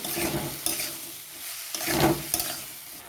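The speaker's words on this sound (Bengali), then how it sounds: "এগুলোকে ভালো করে একটু মশলার সাথে কষিয়ে নেব।" Vegetables stir-fried with spices in a pan for homemade vegetable pasta, giving a steady close sizzle broken by scraping stirs and a few louder bursts, with no talking.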